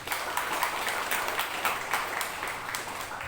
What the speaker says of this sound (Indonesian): Tepuk tangan untuk Pak Peter